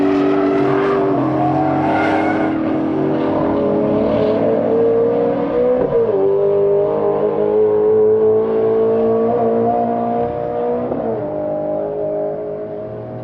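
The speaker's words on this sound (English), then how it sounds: "Getting power down there out of the last corner and rocketing down this very long front stretch" A Porsche GT2 RS race car powers out of the last corner and down a long front straight at a 2021 NOLA track day. Its engine note climbs loudly and steadily, with two brief gear-change dips before fading slightly.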